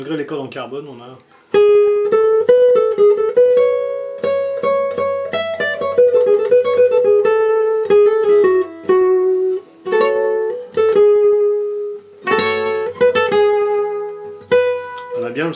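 New acoustic guitar fitted with carbon strings, played melodically with single notes and a few strummed chords, sounding clear and close with pauses between phrases.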